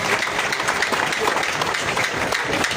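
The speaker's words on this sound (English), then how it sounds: "Please clap for yourself." A crowd at a rally claps steadily and densely, a dense wash of applause with a few voices mixed in.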